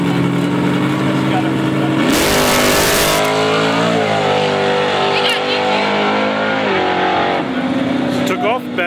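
A race car revving hard during a burnout at Capitol Raceway, a loud sustained engine roar with a sharp surge in the middle, shifting pitch, and people talking nearby under the noise.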